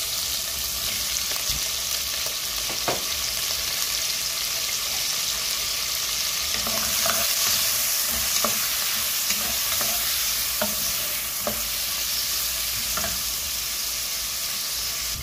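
Onion, garlic and tomato sizzle steadily in a pan for pork soup, a loud, constant frying hiss broken by the occasional light clink of a stirring utensil, with no voices.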